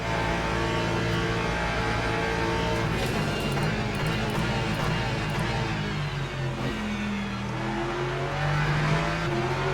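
Race cars running side by side in the sim racing game Le Mans Ultimate, a Ferrari among them: a loud, sustained engine drone with shifting pitch and steady revving throughout, no talking.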